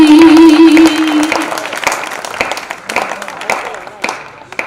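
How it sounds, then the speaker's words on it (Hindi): An audience at a Hindi poetry recital (kavi sammelan) in Dewas, Madhya Pradesh, claps loudly in a dense round of applause that fades gradually over several seconds, with a voice over the start. "तालियां कमजोर नहीं आना चाहिए, मुझे ऐसा लगना चाहिए कि आप भी मुझे सुन रहे हैं।"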